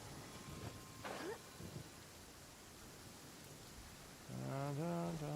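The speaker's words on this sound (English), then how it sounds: "It's a thundering and it's a lightning and it's a raining." Rain from a thunderstorm in Genshin Impact hisses faintly and steadily, and a voice starts talking near the end.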